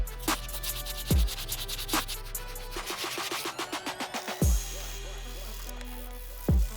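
Medium bristle brush scrubbing the midsoles of 2009 Space Jam Jordan 11 sneakers, with repeated rhythmic rubbing strokes, a quick burst of short scrubs in the middle, and a few heavier thumps, close and moderately loud.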